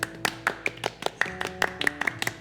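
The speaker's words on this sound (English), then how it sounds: "Golf clap." A few people give a light, polite golf clap after a tabletop role-playing scene, a sparse run of soft individual claps fairly close by, with no talk over it.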